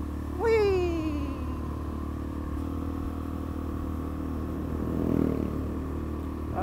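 A 125 cc supermoto motorcycle rides on an evening road: a close, steady engine drone whose pitch sweeps down sharply as the revs drop, then swells again as the throttle opens.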